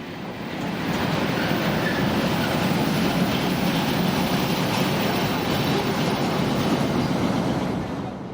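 Class 750 diesel locomotive 750-182, working a Prievidza to Bratislava passenger service, passes through a station as a broad rushing roar that swells up, holds steady for several seconds, then fades away.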